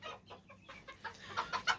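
Chickens cluck close by while being given celebration food, a flock of young hens and cockerels making short, uneven bursts of clucks over a quiet background.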